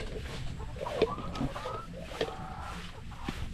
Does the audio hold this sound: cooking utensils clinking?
no